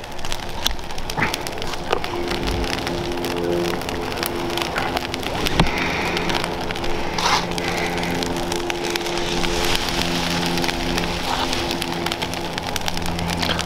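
A huge outdoor leaf-pile fire soaked with gasoline crackles and sizzles steadily, a dense rain-like hiss of popping embers with occasional sharper snaps, close and fairly loud, with no talk.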